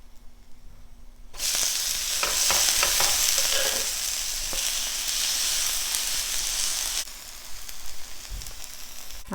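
Mini dosa frying in a generous pour of ghee on a hot pan, a loud steady sizzle that bursts in abruptly and holds, with faint scraping touches, then drops slightly toward the end; no talking.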